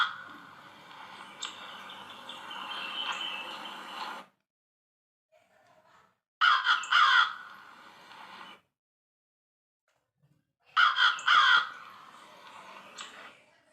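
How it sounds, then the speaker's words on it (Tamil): A crow gives three bursts of harsh, raspy cawing, each a few seconds long, separated by pauses of near silence; fairly close and clear. "இப்போ நம்ம காகம் பாட்டு பாட போகுது."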